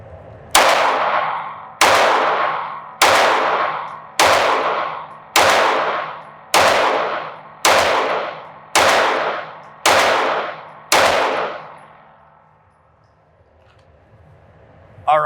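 Ten loud, evenly spaced shots from a Ruger RXM pistol fired at 10 yards on a range, each sharp crack followed by a brief decay, roughly 1.3 seconds apart, then quiet.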